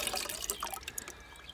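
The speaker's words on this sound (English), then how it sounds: "I'm just putting it in a watering can and giving it a mix up" Homemade nettle fertiliser liquid pours and splashes into a watering can, a short close burst of gurgling, trickling water that tapers off quickly.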